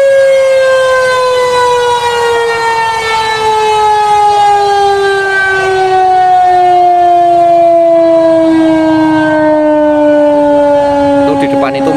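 Colonial-era Dutch war siren mounted in a tree at Blora's town square, sounding to mark the end of the fast: a loud, steady wailing tone that slowly falls in pitch across twelve seconds, heard without pauses.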